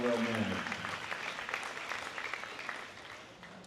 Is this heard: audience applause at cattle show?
yes